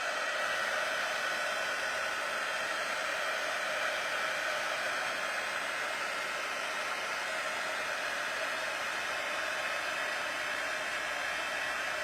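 A hair dryer blows steadily to dry liquid from Blends markers on vellum background paper, a constant loud whooshing hiss with no breaks and no voices.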